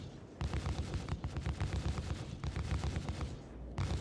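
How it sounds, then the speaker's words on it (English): Ship turrets on a Carrack in Star Citizen fire in rapid bursts, a dense rattling stream of shots that pauses briefly near the start and again near the end, heard without talk. "the gunner are shooting at different ships"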